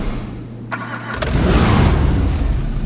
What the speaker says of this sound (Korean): 엔진 소리 바로 들어볼게요